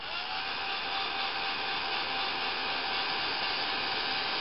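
A hair dryer blows steadily and loudly at close range, drying a glued craft flower for a triangular trinket box, with a constant even whir and no talk.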